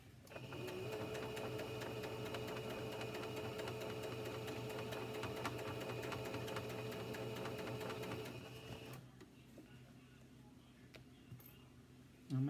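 Sewing machine hemming blue jeans along the original hem, a steady close whirring run for about eight seconds that then stops, leaving quieter handling noise.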